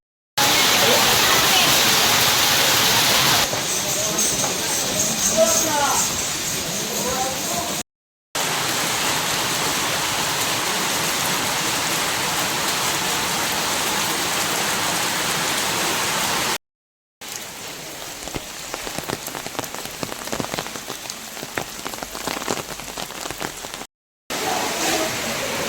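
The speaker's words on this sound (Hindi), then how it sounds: "बहुत ज़बरदस्त और भयंकर बारिश चल रही है दोस्तों इस समय, मूसलाधार बारिश" Torrential rain pours on the Banganga route to Vaishno Devi, a loud, dense, constant roar broken by brief gaps, with a voice talking in parts.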